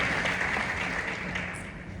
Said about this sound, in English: that was kind of a lame applause